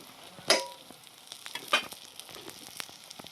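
Stuffed capsicum (bell peppers) go into a pan of lightly spiced masala for a Maharashtrian bharli dhobli mirchi curry, giving two sharp splashy sizzle bursts followed by softer crackles and light stirring clicks, fairly quiet, no talking.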